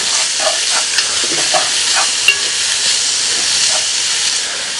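Garlic stirred in a hot Lodge Dutch oven, a steady broadband sizzle with light scraping strokes of a utensil throughout, close and fairly loud with no talking.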